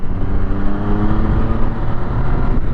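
A car accelerating uphill to overtake cyclists, its engine a loud, steady, close drone that swells slightly as it pulls past, with no talking over it.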